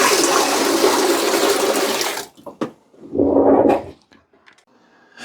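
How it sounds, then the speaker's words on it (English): Dirty water gushes steadily out of the waste tank of a Dreame L60 Ultra robot vacuum for about two seconds, then stops, followed by a few quieter splashes and plastic knocks as the tank is handled. "Let's go empty the dirty water tank on the Dreame L60 Ultra."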